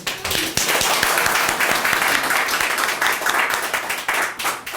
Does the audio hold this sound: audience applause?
yes